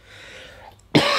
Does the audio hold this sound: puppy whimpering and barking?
no